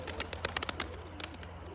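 Pigeons calling close by, including grey, smoky, yellow and yellow-spotted flying birds, with a quick run of short, sharp bursts and soft cooing; no voices.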